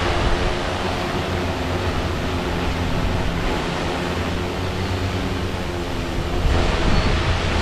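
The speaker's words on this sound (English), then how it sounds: "Pretty windy out today too." Steady, loud wind rushing and buffeting, a broad continuous roar with no talking.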